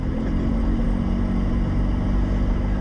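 A B18C VTEC Type-R engine swapped into a 1967 Morris Mini Van drones steadily under throttle, a continuous close-up hum with a low, even tone and no talking.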